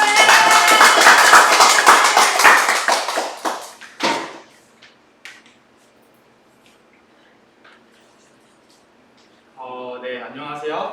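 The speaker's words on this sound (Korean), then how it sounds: "박수로 맞이해 주세요." Audience at a twelfth-grade internship presentation event claps to welcome the first student presenter: a dense burst of many hands clapping with voices mixed in, fading out after about four seconds, then a quiet room before a voice starts speaking near the end.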